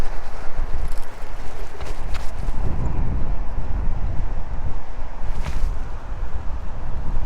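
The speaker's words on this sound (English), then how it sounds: "I didn't realise it was this windy today." Strong gusts batter a microphone outdoors, a loud, rumbling buffet of wind noise that surges and dips without pause, on a breezy day while riding an electric scooter.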